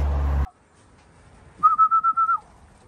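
Someone calls racing pigeons in for feeding with a short series of six or seven quick, even whistle-like pulses, heard after a brief loud noise at the start.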